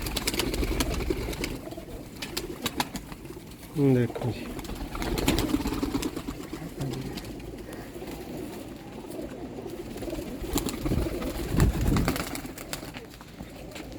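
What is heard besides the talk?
rare Sialkoti pigeons cooing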